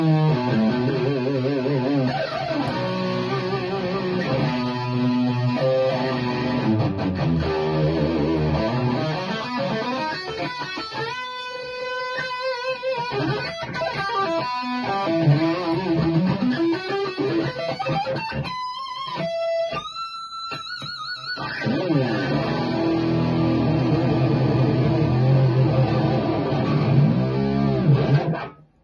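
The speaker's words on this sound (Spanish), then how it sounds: "ahí lo escuchamos entonces a Mariano jugueteando un rato con sus plexi." Overdriven electric guitar through a crunchy Marshall Plexi tube amp plays riffs and chords for about half a minute, loud and gritty, with no talking.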